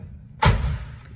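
One solid, close thud as the door of a 1970 Chevrolet Chevelle pro touring car, powered by a 572 engine, is pushed shut with a single finger, followed by a brief low ring-out.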